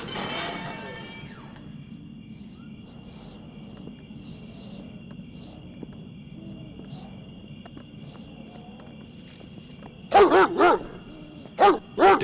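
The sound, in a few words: dog barking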